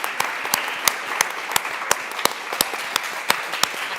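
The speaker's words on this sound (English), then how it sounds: "please give them a round of applause" Audience applause at a conference panel on online violence against women journalists, a steady wash of many hands with sharper individual claps standing out, moderately loud and continuous throughout.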